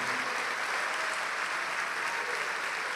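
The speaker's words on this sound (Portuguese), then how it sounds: "Vamos aplaudir mais ao nome de Jesus" A congregation at a church service applauding together, a dense, steady wash of many hands clapping throughout, loud and continuous, with no talk on top.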